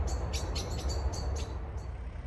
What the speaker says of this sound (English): Those birds are loud, aren't they?